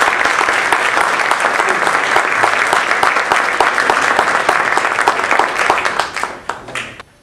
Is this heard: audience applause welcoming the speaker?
yes